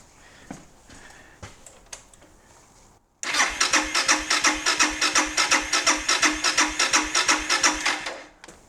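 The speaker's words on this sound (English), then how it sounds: "we just want to crank her over now, just make sure everything sounds okay" After some clicks and handling, a Suzuki DR650 motorcycle engine cranks over on its starter motor without firing, a rapid, even chugging whirr lasting about five seconds, close and loud, then stops.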